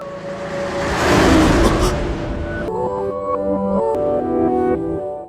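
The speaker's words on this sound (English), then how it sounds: "she doesn't notice a speeding car coming and Yuta tries to help." A speeding car approaching along a street, its engine noise building to a loud swell in the first couple of seconds before music-like tonal sounds take over for the rest.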